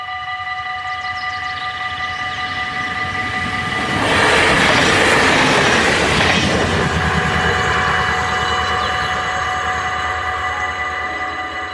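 A train rolls past on rails, a steady rumble of wheels that swells to a loud, broadband peak midway and then eases back to a sustained roar, with no voices.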